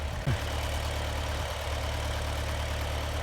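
A farm tractor idles steadily on a snowy winter cattle farm, a low constant rumble with a brief clunk near the start.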